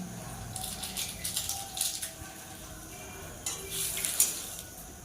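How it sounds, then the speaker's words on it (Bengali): Garam masala frying in hot oil in a wok while a dal-style dish is cooked, heard as a soft hiss with light stirring and metal utensil scrapes against the pan, fairly quiet and close, with no talking. "গরম মশলা দিয়ে দিলাম"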